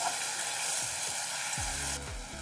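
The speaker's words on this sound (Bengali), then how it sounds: "এই যে একটু ভেজে নিচ্ছি, যতক্ষণ না আদার কাঁচা গন্ধ চলে যাচ্ছে" Radhuni seeds, green chili and ginger paste fry in hot oil for a Bengali lau (bottle gourd) dish, a steady loud sizzle with a few scraping stirs and a brief spatter near the end, no voices.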